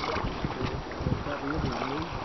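A sailboat runs fast along a shoreline. Steady wind rumble and water rushing against the hull stay loud and constant, with faint voices underneath.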